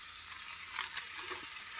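Spiced masala for a banana-flower (mocha) dish frying in a pan while being stirred, a steady soft sizzle broken by a few light scraping strokes, close and fairly quiet, with no talking.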